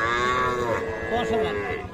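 A young calf moos at Aftabganj cattle market, a drawn-out nasal bellow rising and falling for nearly two seconds, heard close over market bustle.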